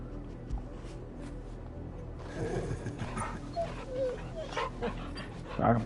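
A dog in the video game Final Fantasy 16 gives soft whimpers and small yips, close and moderately loud over a low background hum, growing livelier toward the end.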